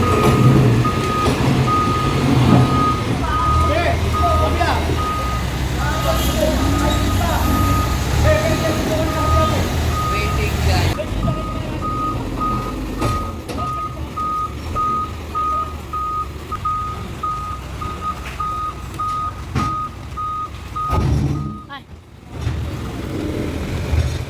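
Steady electronic reversing beeps from a City Engineers Office truck hauling storm debris ring out in a regular pulse over heavy engine rumble and outdoor noise, with voices now and then, stopping near the end.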